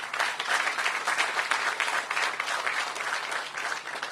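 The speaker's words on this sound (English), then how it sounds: "So please give them a round of applause as well." Sustained audience applause at a ribbon-cutting ceremony for a Ward 8 entertainment and sports arena, a dense, steady wash of many hands clapping at once that holds for several seconds with no voices on top.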